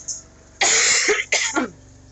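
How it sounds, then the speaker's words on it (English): Two harsh, raspy coughs from a dog close by, the first longer and the second shorter, with a wheezing, hacking quality. "Catch her coughing."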